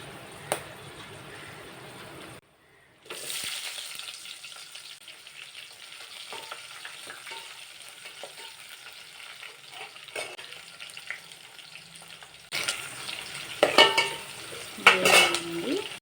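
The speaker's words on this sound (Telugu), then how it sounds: "ఇప్పుడు ఆనియన్స్ వేసుకుంటున్నా." Onions sizzle in oil in a pan for chicken pulao, a steady frying hiss after a brief gap, with stirring scrapes and metal clatter of a spoon against the pan growing louder toward the end.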